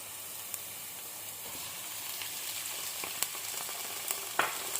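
Onions fry in a pan with an even, hissing sizzle. A few faint clicks and taps of the pan or spoon rise above it, fairly quiet with no speech.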